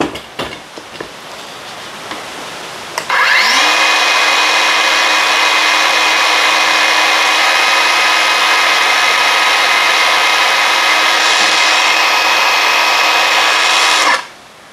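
A Dongcheng DCMY02-185Z cordless brushless 7-inch circular saw spins up after a few faint knocks and runs alone at full speed for about eleven seconds, a loud steady high whine, then cuts off abruptly.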